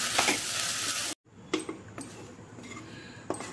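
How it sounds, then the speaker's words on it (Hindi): Grated coconut and milk are stirred and roasted in a pan, starting with a loud hiss of sizzling, then a brief pause followed by quieter intermittent spoon scrapes and soft sizzling close by. "अब हम इसमें डालेंगे 1 कटोरी दूध और दूध को नारियल के साथ मिला लेंगे। अच्छे से मिलाते हुए"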